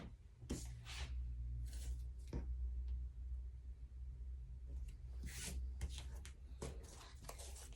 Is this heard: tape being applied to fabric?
yes